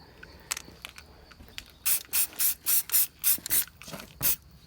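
An aerosol can spray-paints a nut and bolt white in a car workshop: a few light clicks and scuffs, then about eight short, loud hissing bursts in a quick regular rhythm close by.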